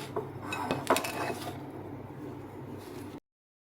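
Home remedy mixture being stirred in a bowl, spoon clinking and scraping against the sides in a few quick strokes, fairly quiet, followed by softer rustling before cutting off abruptly.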